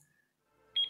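A digital alarm clock's short electronic beep pattern rings out near the end after near silence, a pair of bright high-pitched tones close together.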